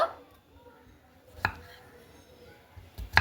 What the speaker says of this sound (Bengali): তো আমি দেখাচ্ছি, দেখুন এইভাবে কিন্তু আমি ছোট ছোট পিস করে কেটে নেব।